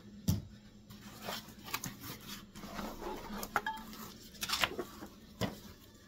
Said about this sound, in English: This is a cast iron Dutch oven with a lid.